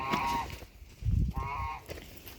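Geese honk loudly nearby, two separate calls with a short gap between them and a low thump in the middle.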